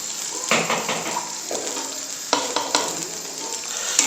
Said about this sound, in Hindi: ये पेस्ट इसमें ऐड करेंगे। इसको हमने थोड़ा थोड़ा सा पकाना है।